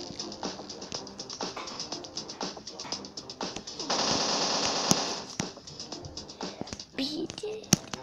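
Rapid machine gun fire in the blocky online shooter Block City Wars, bursts of fast repeated shots running through the whole stretch, loud and close, with a denser sustained burst midway and sharp single cracks near the end.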